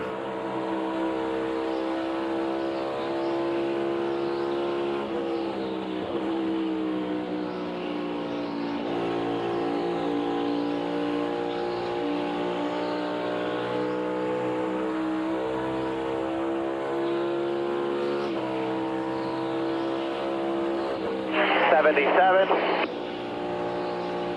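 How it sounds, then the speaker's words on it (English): A NASCAR Cup Series race car lapping Darlington during practice, heard as a continuous, loud engine drone that rises and falls in pitch as the throttle changes, with no break for the whole stretch. "let's ride and listen to Brad for a lap or 2 here."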